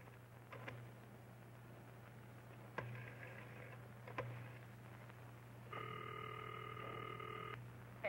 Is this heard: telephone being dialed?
yes